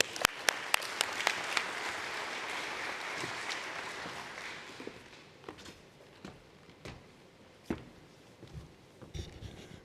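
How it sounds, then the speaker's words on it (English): An audience at the Governor's Workforce Summit 2022 claps, starting with sharp scattered claps, then a dense round of applause that thins out into a few isolated claps and footsteps. "Let's give him a round of applause."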